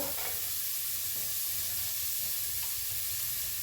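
Onion, carrot and beans frying in a pan, a loud, continuous hissing sizzle that stays even throughout, with faint stirring scrapes and no voices.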